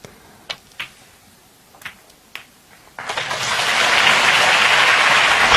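A snooker match crowd breaks into applause after a shot: a few sharp clicks and taps in near quiet, then a sudden burst of dense clapping that builds and sustains loudly.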